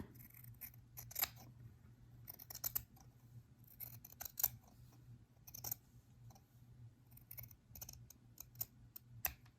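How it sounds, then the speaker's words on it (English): Scissors snipping through a fabric seam allowance while a flat felled seam is sewn, heard as close, quiet, irregular metallic snips over a low steady background hum. "we're going to cut that seam allowance in about half"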